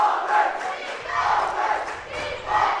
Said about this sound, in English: Tabiona always travels well. They have a loud crowd. Ours is matching it.